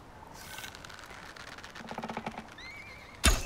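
Horse whinnying in the survival video game Icarus, a clear high neigh rising and wavering near the end, preceded by hoof clip-clop and rhythmic movement sounds.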